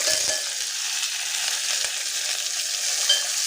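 Small onion and curry leaves sautéing in hot tempering oil with fenugreek, a steady close sizzle running unbroken through the whole stretch with no voices.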